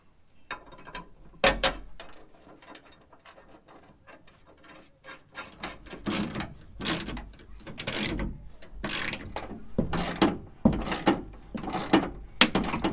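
Ratchet tightening bolts with locking nuts on a RuggedWerks bed stiffener in a Toyota Tacoma truck bed, close rapid clicking bursts that grow denser and louder as each bolt snugs up, with no speech.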